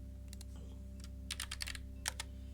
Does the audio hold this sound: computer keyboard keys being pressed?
yes